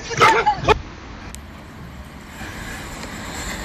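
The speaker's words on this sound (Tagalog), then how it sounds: "Nagalit talaga yung aso." An angry dog gives a few sharp, close barks in quick succession at the start, then falls silent over low roadside traffic noise.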